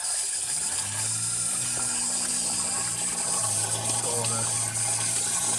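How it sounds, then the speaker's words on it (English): Water flushes out of a Morris Minor Traveller's cooling system, with a steady, loud gush and splashing over a low pump-like hum that runs the whole time. "the water coming out, a little bit of grime, a little bit of splashing. Flush it out."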